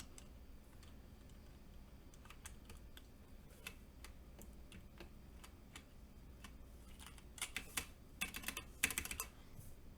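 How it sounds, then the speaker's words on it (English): A mechanical keyboard's space bar being fitted: sparse, faint clicks and taps that grow into a quicker burst of sharper plastic clacks near the end, in a quiet room with no talking. "I'm going to go ahead and put in my space bar."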